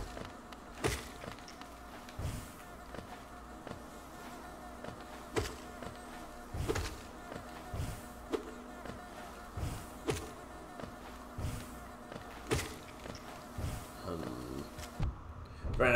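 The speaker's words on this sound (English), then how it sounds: "Get away from me, you stupid bees." Buzzing of bees in the Hollow Knight video game, a steady insect drone running throughout with repeated sharp hits and thumps of combat layered over it.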